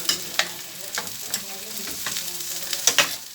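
Fish and peppers in tomato coulis sizzling in a frying pan while being stirred, with a soft steady crackle and several scraping stirs of a utensil against the pan, close by, with no speech.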